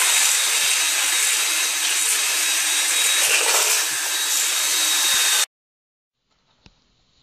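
A power mixer churns thinset mortar in a bucket of water, a loud, steady whirring grind lasting several seconds before cutting off abruptly, followed by a faint knock in the quiet.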